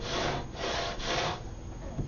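Balsa wood is rubbed with 80-grit sandpaper in three or four quick back-and-forth strokes, a close, rough, steady scratching.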